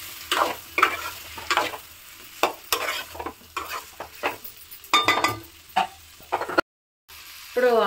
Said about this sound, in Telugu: ఇప్పుడు ఆలుగడ్డ కొంచెం ఆయిల్లో ఫ్రై అయింది కదా